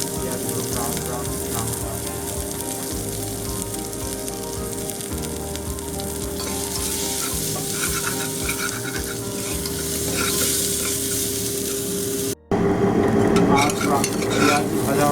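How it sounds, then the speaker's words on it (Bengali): Two chopped onions frying and browning in oil for a Bengali mutton curry, a steady loud sizzle with stirring scrapes throughout, a brief cut near the end before the frying resumes even louder. "পেঁয়াজ, যেটা আমি 2টো পেঁয়াজ কেটে রেখেছিলাম, এটা আমি ভালো করে তেলের সাথে ফ্রাই করবো"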